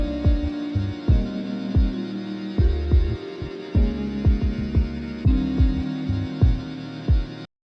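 Starter loop music played back from FL Studio: a steady electronic beat of deep thumping kick drums over a sustained low synth tone, repeating evenly and loud, with no voices.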